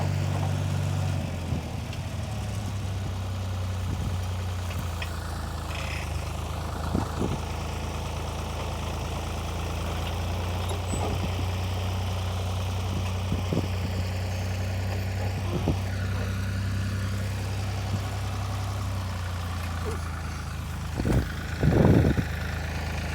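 A compact tractor engine runs steadily at a low idle-like drone while working a landscape rake, with a constant low hum and a few brief knocks and clanks near the end.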